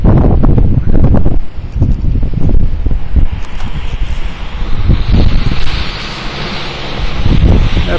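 Loud, gusty wind buffets the microphone in heavy low rumbles on an open field with wind turbines, rising and falling throughout with a steady hiss underneath.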